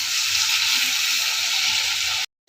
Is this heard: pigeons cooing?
no